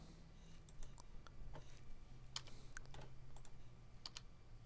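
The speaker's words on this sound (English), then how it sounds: "When I pressed the B on my keyboard" Keys on a computer keyboard are pressed in a quick series of sharp clicks during a live screen-sharing session, and some clicks land in closely spaced pairs and clusters over a faint low hum.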